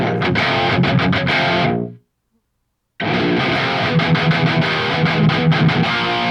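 Heavily distorted electric guitar played through a Neural DSP Quad Cortex distortion amp model chugs and strums loudly, cuts to silence for about a second, then resumes with driving overdriven metal riffs.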